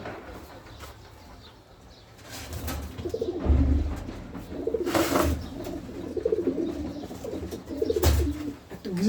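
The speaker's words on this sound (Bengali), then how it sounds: "খুবই ভালো একটা কবুতর।" A pigeon coos close by in repeated low, throaty bursts, with several rounds of cooing over soft background noise.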